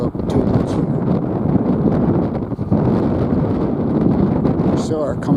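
Blustery wind at Belfast docks buffets the microphone in a loud, continuous roar that runs without a break, with a voice faintly heard under the rumble.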